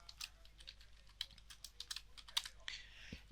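Someone types a file name on a computer keyboard, a quick, irregular run of soft key clicks close by in a quiet room, ending with a slightly louder keystroke.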